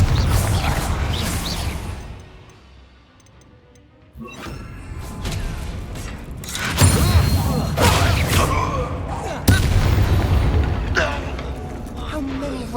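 Confringo fire spell blasting in the Hogwarts Legacy video game, a loud booming burst with crashes and whooshes amid continuous combat noise, with characters shouting over it.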